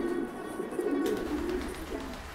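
Pigeons, including a young bird recently moved in, coo softly in a loft in repeated low, rolling calls. The sound is fairly close and there is no talk.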